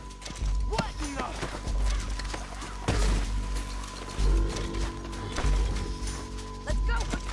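Horse hooves in Red Dead Redemption 2 thud in a fast, rhythmic clip-clop under game music and tense, urgent dialogue from characters, with occasional louder impacts.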